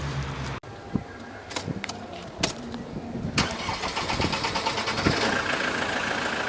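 A Land Rover Defender with a Puma 2.4 TDCi diesel engine cranks with a series of sharp, uneven knocks, then catches and settles into a steady, slightly rough idle.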